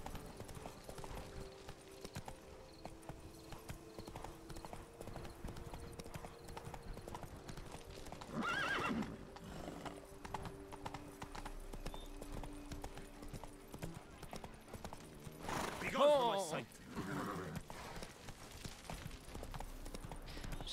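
Hooves of Roach, the horse in the video game The Witcher 3: Blood and Wine, clopping softly at a steady pace, with a couple of brief louder neighs or snorts, while someone talks over it.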